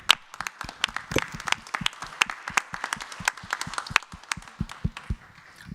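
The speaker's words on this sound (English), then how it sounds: "On applaudit Chérine, s'il vous plaît." Scattered, uneven hand claps from an audience at the European Glut1DS community meeting in Paris, individual sharp claps overlapping at moderate loudness with no voices over them.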